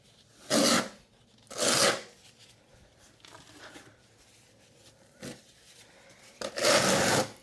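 A steel trowel scrapes and spreads thinset mortar for tiling in several separate rasping strokes: two loud broadband swipes early, fainter scraping in between, a short scrape, then a final long loud pass.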